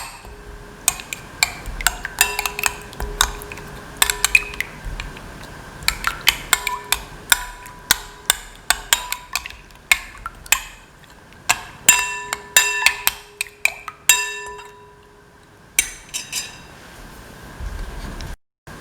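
A utensil clinks and taps against a bowl as salt is mixed into a thick omelette batter, giving irregular sharp ticks in quick clusters with brief pauses, close and fairly loud.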